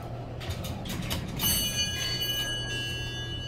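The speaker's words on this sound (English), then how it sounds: "I like the bell." A chime from a 1971 Westinghouse Selectomatic elevator at an airport parking garage rings out as a clear sustained tone that lingers over low mechanical hum and ambient noise.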